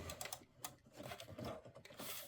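A Kimberbell embroidery machine stitches a pieced quilt block, with a steady fast mechanical whirring and needle chatter running throughout at moderate volume.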